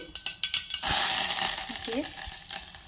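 Mustard seeds and curry leaves hit hot oil with a sudden loud, steady sizzle that begins after some light clatter and slowly eases, heard up close with faint pops.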